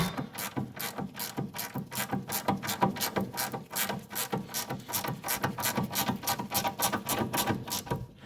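A ratchet wrench clicks rapidly and steadily while tightening a track rod end nut on a Mercedes C-Class W202, with close, continuous metallic ratcheting and no talk.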